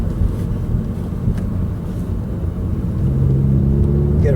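A car with a manual 6-speed gearbox rumbles as the engine revs during a downshift, a low steady drone that swells louder toward the end.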